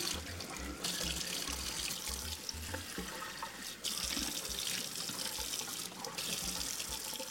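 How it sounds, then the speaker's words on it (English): Steady running cold tap water splashing into a sink, continuous and close, with brief shifts as hands rinse a face in the stream. "Let's go ahead and rinse this off with some cold water."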